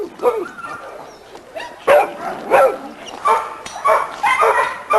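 Ada, a small old female yard dog, barks repeatedly in sharp, uneven bursts close by, with yips and whines mixed in and a voice speaking underneath at times.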